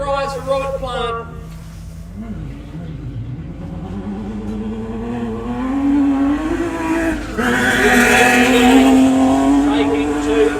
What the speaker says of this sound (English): Revs rise for Robert Plant.